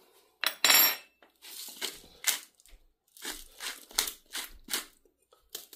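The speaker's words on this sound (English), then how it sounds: "Six twists of black pepper." Black pepper cracked in a pepper mill, a run of short crunchy grinding bursts in quick succession, fairly close and alone without talk.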